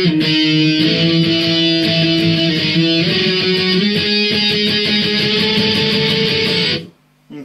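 An electric guitar solo played in octave shapes from a song, sustained doubled notes over a backing track, steady and loud, stepping up in pitch before cutting off near the end.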